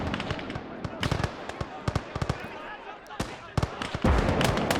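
Booming artillery fire in a World War I battle video game set on the Isonzo front, with repeated sharp blasts, some close and loud, over a dense rumble of distant fire.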